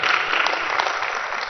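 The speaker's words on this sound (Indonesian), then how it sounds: "Beri tepuk tangan dulu bagi Tuhan kita." A church congregation clapping for God during an Easter Palm Sunday service, a dense, even burst of applause filling the room throughout.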